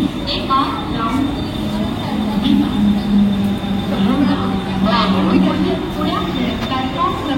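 A Mumbai local train stands at a station platform, its rumbling and metallic squeals mixed with steady crowd noise, with a public-address announcement and voices heard throughout at close range.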